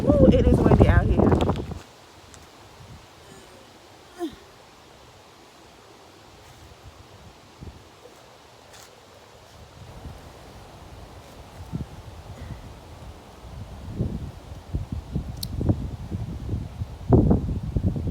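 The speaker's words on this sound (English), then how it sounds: "Woo, it is windy out here." Wind on an outdoor walking trail buffets the microphone in strong gusts, loudest at the start and again toward the end, with quieter rustling stretches between.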